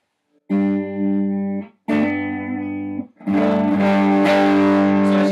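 An electric guitar with both pickups on runs through a boost pedal, loud and sustained: two ringing held chords, then a denser, brighter strummed passage with a distorted edge, and no talking.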